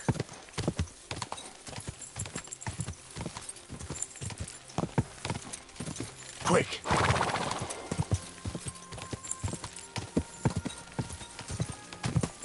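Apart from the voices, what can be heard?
horse hooves clopping and neighing in a video game, Kingdom Come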